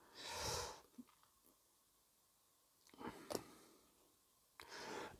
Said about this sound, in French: Une petite toux comme ça.